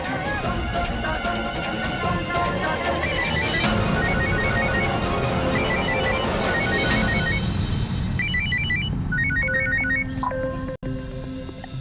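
A telephone rings late at night with an incoming call, repeated electronic ringtone bursts that become clearer toward the end as loud music and background clamour fade, near and alone without talk.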